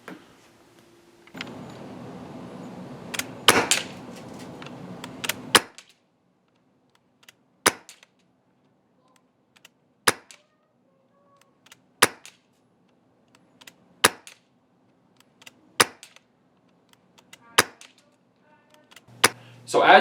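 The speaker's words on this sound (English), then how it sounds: "let's hook this up to a CO2 source and see how it shoots." ASG TAC6 airsoft pistol fired on an external unregulated CO2 source, sharp loud single cracks spaced roughly every two seconds in a quiet room, with a brief burst of handling noise early on.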